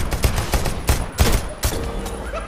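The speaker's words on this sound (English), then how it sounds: "Stop shooting me." Gunfire in the video game Deceit 2, a rapid burst of about six loud, close shots in a quick irregular volley, then a quieter tail with faint game ambience.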